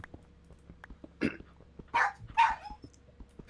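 A dog gives three short, fairly close barks spaced about half a second to a second apart over a quiet background, with faint ticking in between and no talk.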